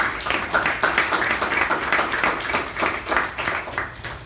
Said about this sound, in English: can we have a huge round of applause for the MC?